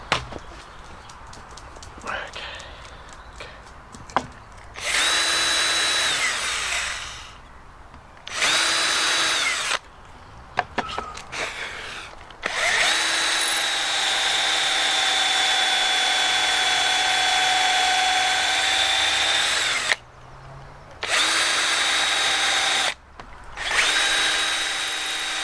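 A power drill drives screws into a castor wheel mount for a folding workbench, several bursts of steady whirring of varying length with short pauses and a few clicks between them, loud and close.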